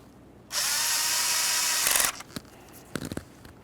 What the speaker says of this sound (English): we'll continue on to tightening that 10mm headed bolt